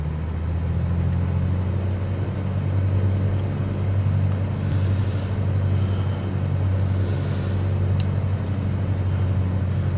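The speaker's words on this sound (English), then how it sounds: "1700 RPM for our run-up." A simulated Just Flight PA-28 piston engine holds a steady 1700 RPM run-up in a flight simulator, a constant loud low drone with an even, unchanging rumble throughout.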